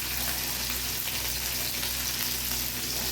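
Green chilies, dried red chili and curry leaves frying in hot oil for an okra rice dish, giving a steady, close crackling sizzle that holds evenly throughout with no voices.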